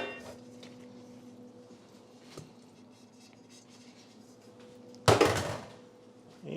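Noodles for a freezer-friendly mac and cheese are added to a pan, giving one loud clatter and scrape near the end after a stretch of low kitchen hum and quiet handling.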